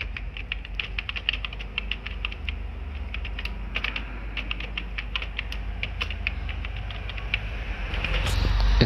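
Fingers type a login ID and password on a computer keyboard, a close, steady patter of quick clicks with brief pauses that ends in a louder clack and rustle.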